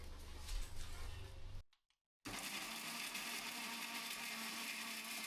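A kitchen mixer grinder grinding biryani masala whirs loudly and steadily, then stops abruptly for a brief silence and starts up again at full, continuous speed.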